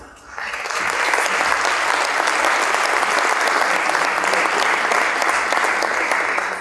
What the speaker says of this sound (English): please welcome with a very warm applause my co-host